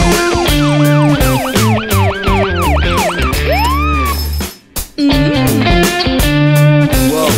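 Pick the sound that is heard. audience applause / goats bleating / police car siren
police car siren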